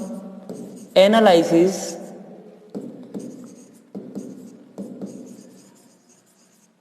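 A teacher writes on a classroom board during an accountancy lesson, with a burst of marker or chalk strokes followed by several shorter rhythmic scratching strokes, heard under and between a man's spoken explanation.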